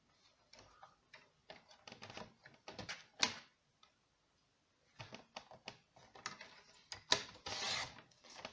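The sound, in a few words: cutting a paper strip on a paper trimmer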